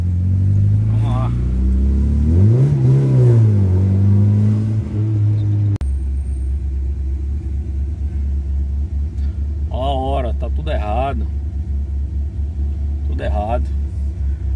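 A Volkswagen Gol engine runs after a hard start, a loud close idling rumble with a rising rev early on, then a steady low drone while someone talks over it.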